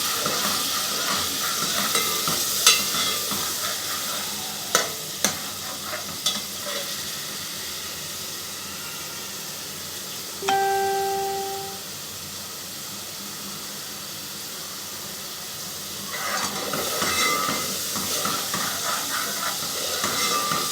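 Ginger and garlic fry in a pan with a continuous hissing sizzle. A few sharp clicks and a brief tonal beep rise over it partway through, and the sizzle swells again near the end. No one speaks.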